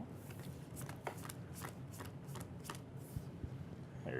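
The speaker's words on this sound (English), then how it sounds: "we're going to give it one more shuffle" A deck of playing cards for the Battle Wizards card game is shuffled at a Gen Con 2018 demo table, a run of quick riffling bursts repeating in close succession, close and fairly quiet with no talk.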